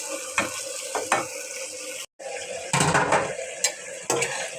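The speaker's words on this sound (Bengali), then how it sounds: "আলু চিংড়ি মাছগুলোও দিয়ে দিচ্ছি এগুলো কষা হয়ে যাক" Potatoes and shrimp sauté in a pan with data (greens stalks), giving a steady frying hiss broken by spoon scrapes and clanks. A brief dropout comes in the middle, followed by busier stirring.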